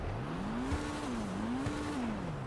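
A Pfister Growler sports car engine in GTA Online, modelled on a Porsche Cayman, revs steadily, its pitch rising and falling in smooth waves, loud and close with a slightly synthetic, game-like tone.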